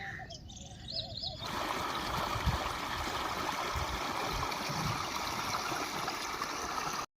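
Irrigation water from a pump pours into a tank with a loud, steady rushing and gurgling that starts after a quiet moment with faint bird calls, then continues unbroken.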